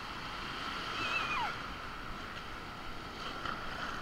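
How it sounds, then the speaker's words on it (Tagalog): Rushing surf and wind noise with a continuous roar of strong high-tide waves at Bagasbas Beach, no speech. "napakalakas po ng alon ngayon"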